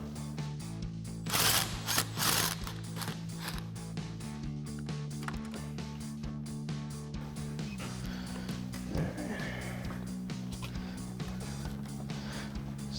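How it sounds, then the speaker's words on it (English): Impact wrench with a 10mm socket and extension backing a screw out of a small bracket on a V8 GMC Sierra 1500's intake during a cold air intake install, two loud whirring bursts over a steady mechanical hum, then quieter rattling. "So we use our 10mm socket and extension on our impact,"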